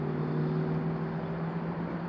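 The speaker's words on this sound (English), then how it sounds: "Man, that traffic noise." Steady road traffic drone heard across a lake, a continuous low rumble with faint engine hum, moderately distant and unbroken throughout, with no one talking.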